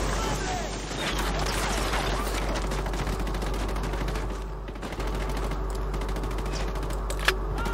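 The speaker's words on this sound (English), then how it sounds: "Opening fire on these fuckers." Continuous rapid gunfire rattles through a Ghost Recon Wildlands firefight, a dense sustained barrage of shots with a steady low rumble beneath and someone talking over it.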